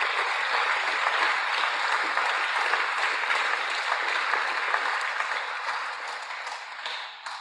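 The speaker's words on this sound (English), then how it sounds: "On applaudit, s'il vous plaît." Steady, full audience applause at a Pacific data visualisation prize ceremony, loud and sustained throughout, easing slightly near the end.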